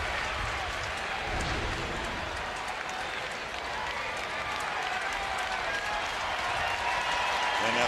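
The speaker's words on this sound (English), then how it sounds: "And now the crowd comes to life" A baseball stadium crowd during a Mets vs Giants game roars steadily as a broad, continuous din, with a commentator talking over it.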